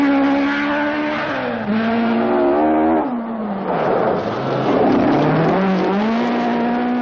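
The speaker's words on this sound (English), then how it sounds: "The other flying Finn, Pentti Arikala, is really flying in his elderly Mark I Escort" An elderly Mark I Ford Escort rally car flies through a Scottish rally stage, its engine revving hard and loud throughout, with pitch rising and falling through gear changes and brief tire squeal.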